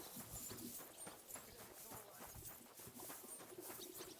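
Horse hooves clip-clopping in Kingdom Come: Deliverance II, a quiet regular trot of hoofbeats with faint bird calls in the background.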